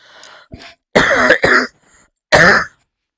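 A few sharp coughs and a throat-clearing burst, loud and close, separated by short silences.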